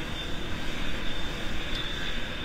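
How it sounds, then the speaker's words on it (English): Airliner engines, a Boeing 777 in a flight simulator game, drone steadily with a broad whooshing roar and a thin high whine while taxiing to the runway, even and close with no voices. "let's begin taxi to the runway"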